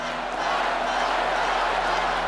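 A political convention crowd chants "Fight" in unison, a dense, loud roar of many voices sustained without pause and filling the space.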